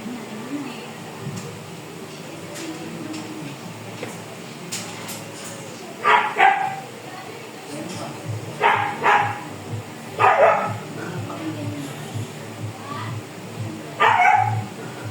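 A pregnant dog barks in several loud, short bursts spread over steady household background noise, close by, with people talking in between.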